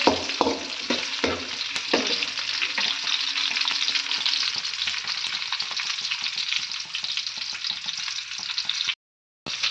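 Onions frying in a pan for chicken sukka, a dense, steady sizzle with a few sharp stirring knocks early on, continuous and close until a brief cut near the end.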